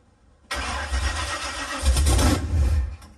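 A big block Chevy engine catches and runs roughly with the choke mostly open and the throttle feathered, a loud, close, uneven idle that surges twice after a quiet start.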